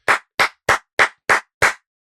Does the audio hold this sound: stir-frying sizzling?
no